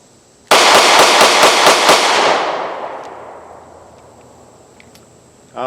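An IWI Masada Slim 9mm micro pistol fires a rapid string of about seven loud, close shots in quick rhythm, each crack echoing and the reverberation trailing off slowly afterward.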